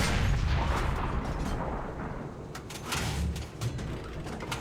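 Heavy tank gun firing in War Thunder, opposite a KV-2 with its 152 mm gun: a dense booming roar with a few sharp cracks, loud and sustained, no talk.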